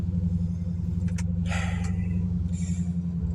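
A Ford Mustang GT three-valve V8 idles with a steady, deep rumble, close and even, with a few faint clicks and taps above the engine note.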